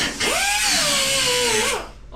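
An angle grinder cutting along a weld line on a Ford, one loud, steady, high whine that sweeps slightly in pitch for almost two seconds before winding down.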